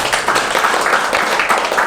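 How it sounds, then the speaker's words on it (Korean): Dense, steady clapping from a lecture audience fills the whole two seconds, loud and close with no pauses. "자, 박수 한번 보내주세요."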